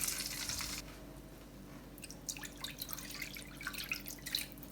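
Water poured into a pan of frying potato and semolina snack mixture, heard as light, uneven dripping and splashing with soft liquid patter over a low steady background hum, fairly quiet and with no talk.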